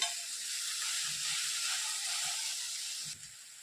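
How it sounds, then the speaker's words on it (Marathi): Onion and tomato sauté in a pan for dhaba-style matar paneer gravy, giving off a soft, continuous hiss and sizzle with a few faint stirring sounds and no voices. "परत एकदा आपण दोन मिनटासाठी कांदा टोमॅटो परतून घेणार आहे"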